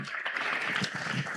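A crowd at a town's New Year greetings gathering claps for the municipal staff, a dense, even burst of applause that fills the short moment.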